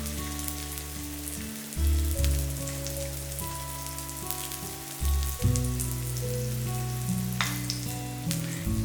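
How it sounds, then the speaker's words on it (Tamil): Veg egg omelet batter with capsicum is poured into a hot pan and gives a steady, close crackling sizzle that runs throughout under background music. "இப்போ பாருங்கள், ஆம்லெட் எடுத்து இதில் ஊற்றிடலாம்."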